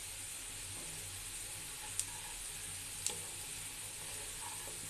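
Cumin and black cumin seeds hit hot oil alongside nearly fried onions, giving a faint, steady sizzle broken by two sharp pops about a second apart.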